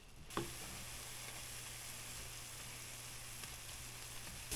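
Vegetables sweating in a pan for a mushroom lasagna, a steady, close sizzle of moderate loudness that runs throughout, with one soft knock near the start.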